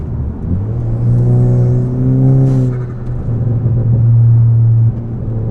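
A tuned turbocharged Kia K5 Optima engine rumbles and revs steadily, its tone rising and holding as the turbo spools, with a brief airy blow-off valve burst near the middle; no talking.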